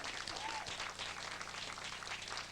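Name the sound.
audience applause for the pianist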